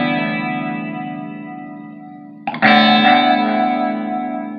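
Electric guitar run through a TC Electronic effects pedal in a Moen GEC8 looper: a sustained, chorus-tinged chord slowly fades, then a fresh strum rings out loud with shimmering modulation and echo.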